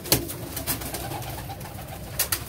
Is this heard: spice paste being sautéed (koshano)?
no